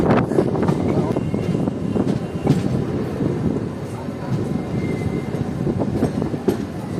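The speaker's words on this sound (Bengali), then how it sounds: "আজিমগঞ্জ থেকে 18 কিলোমিটার কভার করে এসে আমাদের ট্রেন এখন পৌঁছেছে সাগরদিঘি রেলওয়ে স্টেশন" Azimganj–Rampurhat passenger train (63025) pulling into Sagardighi station, a steady close rumble of wheels and carriages running throughout with wind buffeting, no voices.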